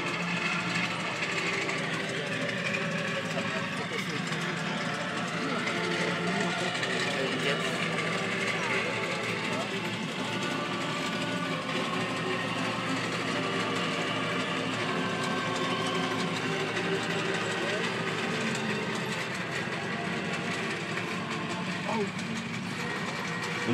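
Historic French armoured vehicle armed with a Hotchkiss machine gun driving past at the Saumur carrousel, a steady loud mechanical rumble and clatter throughout, with commentary over a public address system.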